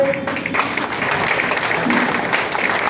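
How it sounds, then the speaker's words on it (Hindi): An audience at a rural doctors' conference bursts into sustained, hearty clapping to welcome guests, loud and continuous with a faint voice briefly audible at the start. "आप लोग जोरदार तालियों से स्वागत करें"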